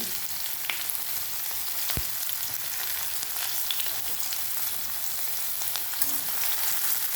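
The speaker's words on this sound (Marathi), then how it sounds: "आणि हे मी चांगले परतून घेणार ते बघा" Onion, garlic, ginger and green chili sautéing in hot oil in a pan for masoor dal tadka, giving a steady close sizzle with faint scrapes of stirring and a couple of sharp clicks.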